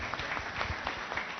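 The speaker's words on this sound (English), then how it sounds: "Please clap for him." Applause from an audience at a UDA comrades chapter rally in Kisii, a soft, continuous patter of many hands heard from a distance with a faint murmur beneath it.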